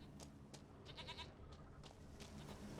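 Goat bleating in The Witcher 3: Wild Hunt, a few short cries around the middle of the clip over steady low game ambience, fairly faint and without talk.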